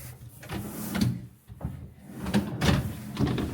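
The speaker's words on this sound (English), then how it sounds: "Just nice, big, deep drawers." Big, deep wooden drawers in a Montreal hotel room are slid open and shut several times, giving close, irregular thuds and rubbing scrapes with no talking.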